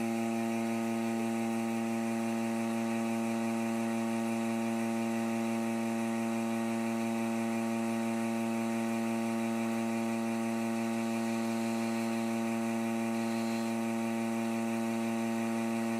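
A vacuum chuck on a wood lathe holds an end-grain aromatic cedar bowl, giving a steady, loud electric hum and whir with layered tonal drone, constant and unbroken throughout.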